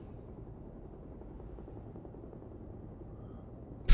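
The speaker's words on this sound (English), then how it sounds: "Private helicopter to get an agent back." A helicopter in Beyond: Two Souls gives off a steady, low, whirring drone that holds evenly throughout, close and continuous, cut off by a sudden loud thump at the very end.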